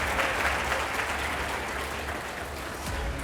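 A television studio audience applauds to welcome a guest historian onto a panel discussion. Steady, moderate clapping fills the brief moment with no speech over it.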